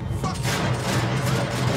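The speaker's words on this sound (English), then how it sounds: "Gunfire over Hoboken." Dense gunfire from the video game Max Payne 3, a loud continuous volley of overlapping shots filling the whole short stretch with no pauses.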